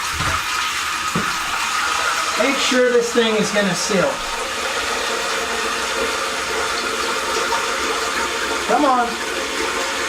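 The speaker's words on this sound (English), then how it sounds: "So let me turn the water back on." A toilet tank refills after the water supply is turned back on, a steady rushing hiss of inflowing water with someone talking briefly over it.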